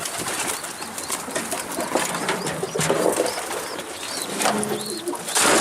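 Mardin pigeons in the dark give soft coos and brief bursts of wing flapping over a steady, hissy outdoor background, fairly close and with no talking.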